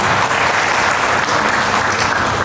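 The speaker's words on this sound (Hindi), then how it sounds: "एक बार इनके लिए ताली बजा।" Comedy club audience at Meerut Club applauding for Mahima ji, a loud, dense wash of clapping from a large crowd, steady and sustained throughout.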